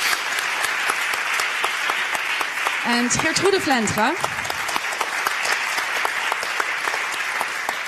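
Steady, loud applause fills a lecture hall throughout, a dense continuous patter of many hands, while someone speaks briefly over it into a microphone.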